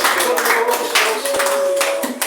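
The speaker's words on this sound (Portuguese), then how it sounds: "Palmas ao Senhor nesta noite." A church congregation at an evening service claps together, loud and close, dense rapid hand claps filling the room with a voice calling out over them.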